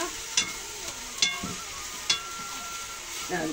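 Fish and onion fry in a pan over a wood fire, a steady sizzle broken by several sharp scraping clacks as the food is stirred.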